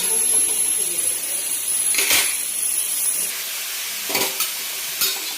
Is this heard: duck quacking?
no